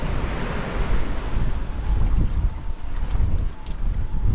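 Strong wind over 20 knots and waves around a sailboat on the open Pacific, a loud continuous rushing roar with buffeting wind gusts on the microphone and sloshing water, no talking.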